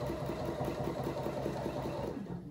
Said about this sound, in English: you can see that I'm sewing a few millimetres from the edge